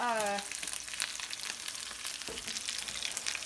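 Pork chorizo fries in canola oil in a cast iron skillet over medium heat, giving a steady, dense sizzle and crackle that runs throughout, with a brief voice-like tone at the very start.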